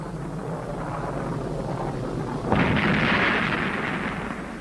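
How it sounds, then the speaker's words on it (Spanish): The Soviet N1 rocket explodes at launch with a sudden broad roaring burst that swells partway through and stays loud, rumbling and hissing over a constant steady background roar. "Este es el momento en que se produce la explosión."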